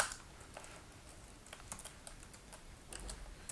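Quiet, close typing on a computer keyboard, a light irregular run of key clicks with short pauses and no voices.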